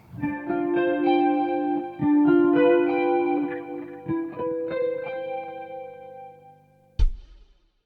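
Guitar chords with a shimmering, effected tone move through a short ii-V-I jazz progression, ringing and sustaining, ending on a sharp, bright final hit.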